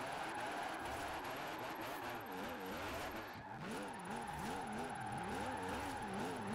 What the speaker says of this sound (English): It is the weirdest sounding engine I've ever heard.